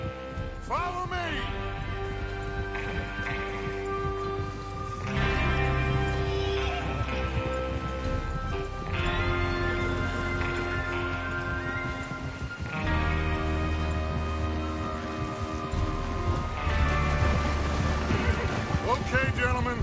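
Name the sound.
horses neighing and clip-clopping in video game Red Dead Redemption 2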